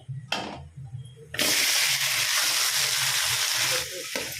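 A sharp burst of loud sizzling as something hits hot oil, steady frying hiss that holds for a few seconds before easing off.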